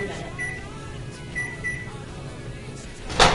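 A microwave oven cooks eggs in a bowl for an omelette, giving a steady close hum with faint intermittent beeps and a louder clatter or beep at the end.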